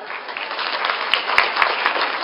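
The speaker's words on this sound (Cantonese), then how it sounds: "我哋又要俾多次掌聲啊" Steady applause from a luncheon crowd at a Hong Kong banquet, dense clapping filling the room for the full stretch with a few sharper individual claps standing out.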